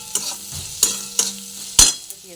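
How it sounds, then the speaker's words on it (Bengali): Onions fry in a pan to a reddish brown, with several sharp scrapes of a stirring spoon breaking through a continuous sizzle and no voices. "দেখুন পেঁয়াজটা লাল লাল ভাজা হয়ে গেছে।"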